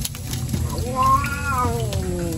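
A stray cat meows once in a long, rising and falling call, close and clear, over a steady background hum of an outdoor meal setting during rain.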